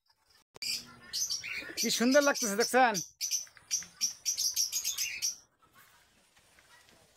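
Birds chirp and twitter outdoors in Bangladesh, a burst of bright, rapid calls close by with a person speaking over the middle part, then scattered tweets fading toward quiet.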